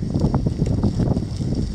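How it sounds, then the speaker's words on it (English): Wind rumbles and buffets against the microphone in a continuous low roar in snowy Jachenau, with no voices over it. "it's actually quite windy"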